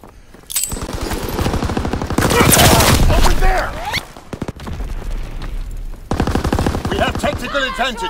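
Video game battle gunfire, with sustained rapid bursts and heavy volleys filling most of the stretch, loud and close, with shouted voices mixed in.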